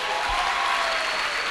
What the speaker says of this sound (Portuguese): Agora pode aplaudir direito,